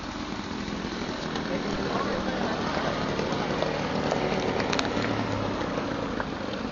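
An airplane lands, a steady, rushing engine roar that stays even throughout, with faint voices murmuring underneath.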